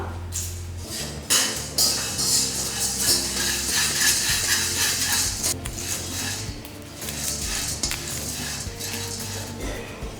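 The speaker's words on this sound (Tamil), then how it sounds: "ஏலக்காயை எடுத்து இதிலே வறுத்துக்கலாம்" Cardamom pods roasting in a pan with a utensil scraping and clinking steadily against the metal, a soft sizzle underneath, continuous close stirring throughout.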